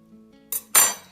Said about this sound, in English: Scrape the bowl